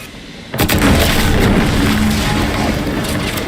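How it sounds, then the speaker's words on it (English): A sudden loud explosion in The Outer Worlds 2 video game, a sharp boom followed by a sustained roaring, rumbling blast that fills the rest of the moment without fading. "An explosion?"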